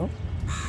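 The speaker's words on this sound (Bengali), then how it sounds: "কাকটা বসে বসে ডাকছে" A crow caws once from a rooftop, harsh and fairly close, with a murmur of talk underneath.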